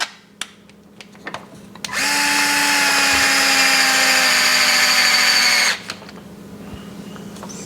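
A power drill drives a screw to fasten the lower skid plate to the brace of an RC rock truck, whirring steadily for about four seconds between a few light handling clicks, with no talking.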